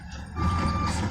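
A company truck, registration CG 11 BF 9436, backs up onto a heap, with a steady reversing beep ringing out over the rumble of its idling engine; the engine grows louder partway through.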